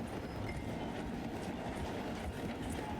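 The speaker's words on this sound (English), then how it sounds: "The train is slowing down to go through the station." A train slowing down to pass through a station, a steady rumbling roll with faint rhythmic clatter from the wheels, continuous and fairly loud.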